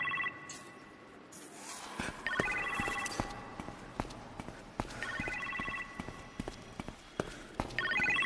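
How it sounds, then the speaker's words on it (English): Telephone ringing in a kitchen in Iron Man VR, repeated electronic ring bursts at a steady interval, moderately loud, with footstep-like thuds and clatter underneath and no talk. "You appear to have a phone call in the kitchen"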